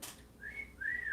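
A person whistles two short, rising-then-falling notes in quick succession, clear and close against a quiet background, with no talking.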